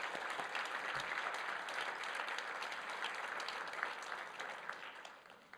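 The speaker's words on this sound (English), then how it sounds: "I think that deserves a round of applause." Steady applause from a school board of education meeting audience during an excellence-in-service recognition in Hanover Township, dense and even throughout at moderate distance, tapering slightly at the end.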